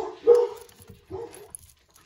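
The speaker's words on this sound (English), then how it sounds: "my dogs were going crazy, so I had to start again" Two dogs barking indoors, a pair of short, close barks roughly a second apart, the first louder and the second a shorter, softer yip-like bark, followed by a brief quiet.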